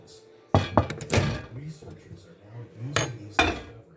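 An egg dish in a kitchen goes back into the microwave, with several sharp clattering knocks of dish and door, a sliding clunk, then two more bright clanks; a voice talks between the impacts.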